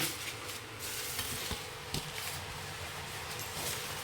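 Moong dal jantikalu (murukku) dough frying in a pan of hot oil, giving a steady broadband sizzle with occasional soft stirring clinks, close and fairly quiet, with no voices.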